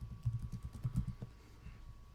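Fingers type on a computer keyboard, a quiet flurry of soft, irregular key clicks for about a second that then trail off to near silence.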